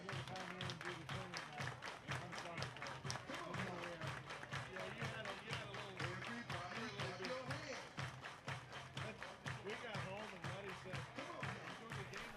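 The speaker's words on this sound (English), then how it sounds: "Everybody clap your hands." A baseball crowd claps in a steady, rhythmic beat, with loud talking and cheering mixed underneath.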